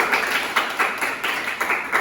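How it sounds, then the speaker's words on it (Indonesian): Students in a classroom clap their hands for a classmate during a school lesson, a brief burst of rhythmic, moderately loud clapping repeating steadily over a couple of seconds. "Boleh tepuk tangan dulu buat Ikram."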